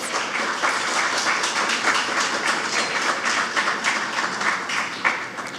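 Audience applause for presenters at an investor education community roadshow, a steady dense wash of many hands clapping that holds evenly for several seconds with no voices over it.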